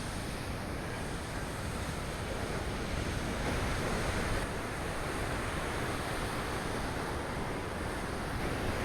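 Huge waves crash onto the shore on a Tenerife beach under red-flag conditions, a continuous, loud roar of surf with wind rumble and no voices over it.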